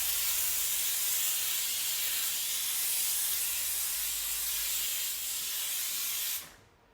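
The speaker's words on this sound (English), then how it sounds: "so here you see very easily and quick steaming" A Laurastar IGGI handheld garment steamer blows steam onto a silk shirt, giving a loud, continuous close-up hiss that runs steadily for several seconds before cutting off abruptly at the end.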